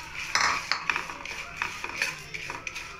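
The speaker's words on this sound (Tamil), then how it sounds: "இப்போ நம்ம என்ன செய்ய போகிறோம், ஆல்மண்டை நம்ம வறுத்து எடுக்க போகிறோம்." Metal utensil scraping and clinking in a hot pan as almonds are stirred while they roast to golden brown, giving irregular close scrapes and taps with no talk.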